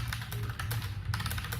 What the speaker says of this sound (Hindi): ये रैपो की तरफ से मैकेनिकल कीबोर्ड है।